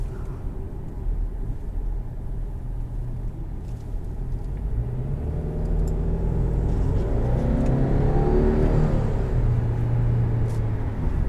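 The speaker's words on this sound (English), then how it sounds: "You can hear the wastegate." 2020 Subaru Legacy turbo accelerating from inside the cabin, a steady low engine rumble that swells as revs climb, with a rising whirring whine and a faint turbo wastegate hiss.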